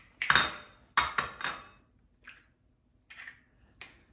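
Two eggs cracked into a bowl for a spicy shrimp omelet, giving a few sharp, close taps and clicks in quick bursts, then softer scattered knocks with quiet gaps between.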